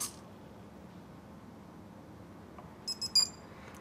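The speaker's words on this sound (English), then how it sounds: "Now you hear the sounds, beep beep." An SP4 drone powering on in a quiet room: after near silence, a short burst of high electronic start-up beeps sounds close by, several quick tones in a row near the end.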